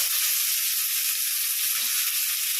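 Small onions with curry leaves hit hot oil already holding green chilli, ginger and garlic for an ivy gourd kuzhambu, giving a loud, continuous close-up sizzle with no talking.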